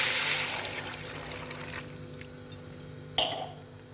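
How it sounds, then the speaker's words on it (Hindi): Water from a glass poured over tomatoes in a cooking pot while making homemade tomato ketchup, a continuous close splashing pour that tapers off, followed by a brief clink near the end. "इसमें जो है मैं 1 गिलास जो है पानी डालूँगी"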